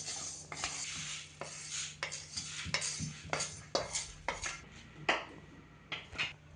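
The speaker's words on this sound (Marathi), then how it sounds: "आता आपण उडदाची डाळ भाजतोय" Urad dal being dry roasted in a pan, with repeated scraping and stirring strokes of a spatula against the metal in an irregular rhythm, close and moderately loud, over a faint steady hum.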